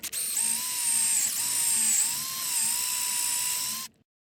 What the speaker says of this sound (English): That tells us when to stop drilling into this aluminum tube.